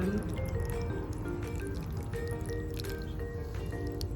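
Water is poured onto guava seedlings started from seed, splashing and dripping steadily and close up over a dense, continuous wash of noise.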